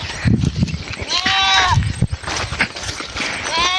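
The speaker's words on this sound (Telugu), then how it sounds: "గొర్రెడి అది" Sheep bleat repeatedly nearby in a village farm setting, with several wavering cries mixed with voices talking.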